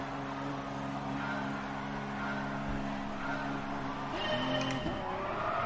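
A race car in Gran Turismo Sport holds full throttle, its engine droning in a steady high whine before tires squeal and the pitch shifts near the end, loud and close with no talk.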